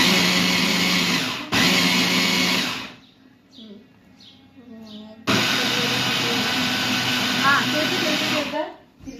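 An electric blender runs loudly while making orange ice cream, stopping briefly and then resuming at full power, with a quieter pause of people talking in between.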